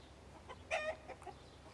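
Chickens cluck in a short burst, one clear cackling call in the middle with softer clucks after, close by over a quiet background.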